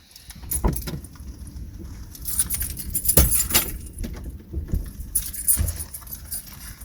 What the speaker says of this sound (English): Now take the smart key out of your vehicle.